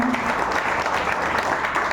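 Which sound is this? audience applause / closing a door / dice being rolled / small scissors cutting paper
audience applause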